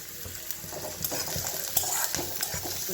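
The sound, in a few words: onions frying in a pan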